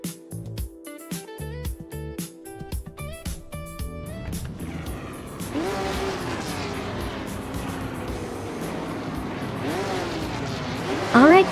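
Race cars launching off the start at Autopolis Oita in a video game, a dense roar of engines building and overlapping after an opening stretch of choppy game sounds, revving and surging, with a brief sharp squeal at the end.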